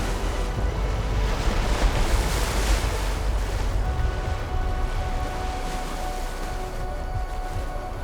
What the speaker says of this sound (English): It is nice and windy